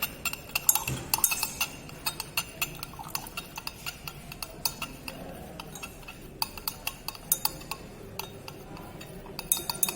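Glass stirring rod clinking steadily against glassware while 10% oxalic acid solution is slowly added with constant stirring, a quick run of faint, bright taps and chinks with no talking.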